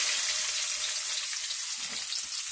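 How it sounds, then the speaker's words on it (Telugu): Finely chopped garlic sizzles steadily in hot oil in a pan, a close, continuous bright crackle with no voices. "సన్న కోసిన తెల్లగడ్డలు వేసుకున్నాం ఒక్కొక్కటి వేసుకొని మనం వేగించుకుందాం"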